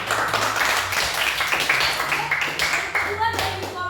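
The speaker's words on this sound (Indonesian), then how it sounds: "Tepuk tangan dulu." A school class claps hands together in a lively, uneven patter that runs throughout, close by, with some voices mixed in.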